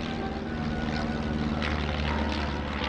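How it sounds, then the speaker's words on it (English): A Piper Super Cub with a 180-horsepower engine flies past in the general aviation parade at EAA AirVenture 2018, its propeller giving a steady, fairly faint droning buzz. "And here comes the Supercub."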